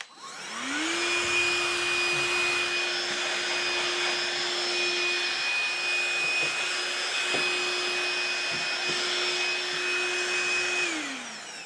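A DeWALT cordless vacuum cleaner whirs steadily at close range with a high motor whine, starting up and winding down, running loudly on its own.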